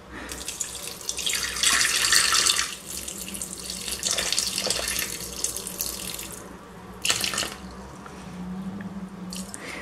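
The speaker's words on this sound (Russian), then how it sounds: "Ну, я сейчас в рецепте положу воду." Tap water runs steadily into a sink to add to sourdough dough for sausage rolls, in bursts of splashing flow that rise and ease off over several seconds, close by with no talk.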